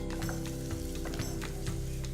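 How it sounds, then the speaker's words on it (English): Finely sliced shallots fry in a little oil in a hot pan, a steady close sizzle with faint crackles and a constant hum underneath. "heat up a pan, a little bit of oil, add just finely sliced shallots"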